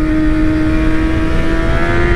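Engine of a 2007 Honda CBR 600 RR motorcycle under way, loud and close: a steady droning hum with a faint lift in pitch toward the end, and no voices.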